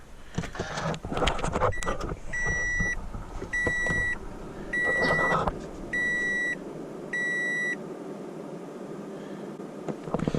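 Toyota Prius C startup sequence inside the parked car: a string of five evenly spaced electronic chimes rings out, each short and bright, over a low steady cabin hum after some initial rustling.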